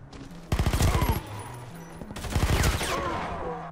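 Two bursts of rapid suppressed automatic fire from a Taurus CT9 G2 in the Warface shooter game, each a fast rattling string of muted shots lasting about half a second, separated by a short pause.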